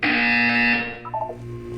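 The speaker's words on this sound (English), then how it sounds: "You will hear a buzzer." Loud electronic buzzer from the game Portal 2 sounds as a sustained harsh tone, then ends with a short stepped chime.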